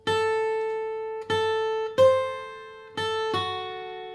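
An acoustic guitar plays a Silent Night phrase in bluegrass style, five clear plucked notes and strums that ring out and decay one after another, alone without talk.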